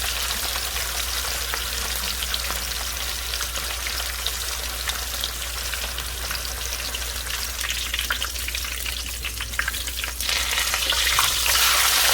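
Pork chops fry in a pot, a loud continuous crackling sizzle with dense popping spatter that holds steady and grows slightly brighter toward the end.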